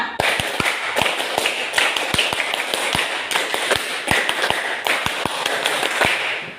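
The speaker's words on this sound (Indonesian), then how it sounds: "Tepuk pramuka." A group of students does a Scout clap in a classroom, sharp rhythmic hand claps in a patterned sequence of quick bursts and pauses, close and crisp over a faint room murmur.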